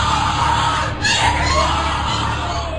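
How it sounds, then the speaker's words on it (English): Screaming and yelling from a group at a Skull and Bones initiation ceremony, captured in a noisy, muffled recording with a constant rumble and hiss beneath the cries. "What you're hearing is the first recording ever made of the Skull and Bones initiation ceremony."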